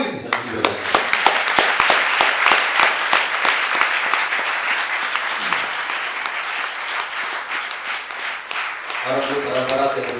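An audience at a stage play applauds in a dense burst of clapping that slowly thins out, with a voice starting to speak near the end.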